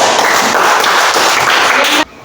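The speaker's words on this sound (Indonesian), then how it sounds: "Oke, tepuk tangan dulu." A classroom of pupils applauding together in a dense, steady wash of claps that stops abruptly near the end, close and loud.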